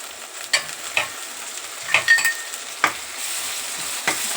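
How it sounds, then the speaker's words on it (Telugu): Tomato pieces frying in a pan for a small fish curry, with sharp spatula scrapes and knocks at irregular intervals over a light sizzle that rises toward the end. "టమాటా ముక్కలు అయితే తొందరగా ఫ్రై అయిపోతాయి"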